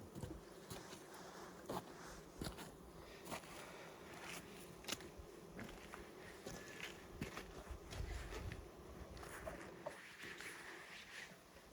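Dense, steady buzzing of many honey bees close by while a package is hived, a continuous hum with occasional louder passes and faint bird calls far off.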